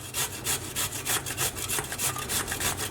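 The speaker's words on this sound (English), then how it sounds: "So we're going to grate this into the strainer because we want to get some of that juice out." Cucumber pushed down the coarse side of a grater into a strainer gives rhythmic rasping strokes, about a dozen even passes close by with no talk.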